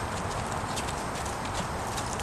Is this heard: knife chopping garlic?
no